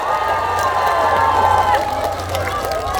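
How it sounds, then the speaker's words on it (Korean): A large outdoor festival crowd along a riverside responds with big applause and cheering, a loud dense wash of clapping, shouts and crowd noise with a low steady hum beneath. "큰 박수 한 번만 주시겠어요?"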